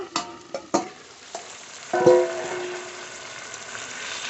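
Desi chicken curry being stirred in a pan with the lid lifted. Several sharp metallic knocks and scrapes of the spoon come first, then a ringing clang, over a faint sizzle, with no voices.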